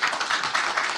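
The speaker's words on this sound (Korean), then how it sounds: "박수로 오늘의 행사를 마무리하겠습니다" Audience applause closing a CEO talk event, dense continuous clapping that swells in pulses, fairly loud and close, with no speech.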